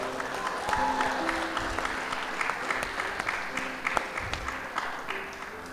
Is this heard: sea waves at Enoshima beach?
no